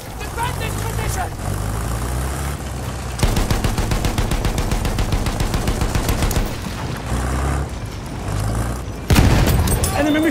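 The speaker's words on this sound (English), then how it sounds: "Enemy machine gun sighted!" Machine gun fire in the World War I shooter Battlefield 1, sounding as a long rapid, evenly spaced stream of close shots among other gunfire and booms, with shouted voices over it.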